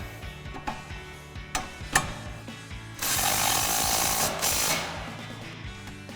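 An impact wrench with an 18mm socket tightens the strut bolts on a 2005-2010 Mustang front C&L CX2 strut, giving a few short rattling bursts followed by one longer, loud hammering run of about two seconds, close by.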